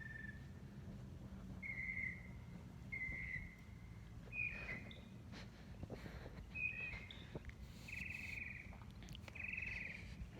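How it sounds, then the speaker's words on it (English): Faint, tiny bird chirps and short whistled calls from birds far off, repeating irregularly every second or so over a low background hum. "so you can hear the tiny chirps."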